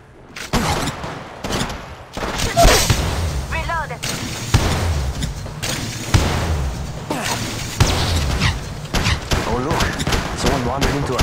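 Rapid bursts of gunfire in the Apex Legends video game, loud and close, with overlapping shots and explosive impacts packed throughout while a voice talks intermittently over the action.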